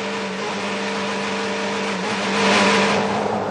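DTM touring race car at EuroSpeedway Lausitz in 2010, a loud high-revving engine holding a steady whine that swells briefly as the car passes close by.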